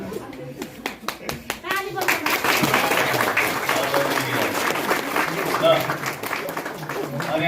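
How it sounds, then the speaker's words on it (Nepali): Wedding guests clap and applaud a cake cutting, a dense burst of close handclaps that builds into sustained applause, with people talking over it. "हामी ताली बजाइदिनेछौँ है।"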